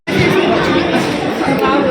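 Dense crowd chatter fills a busy Decathlon sporting goods store, a steady wash of overlapping voices and babble that stays loud and continuous throughout.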